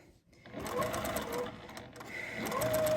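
A sewing machine stitches binding onto a quilt, running in a fast, steady mechanical whir that holds close and fairly loud, with a brief rise in pitch as the speed shifts.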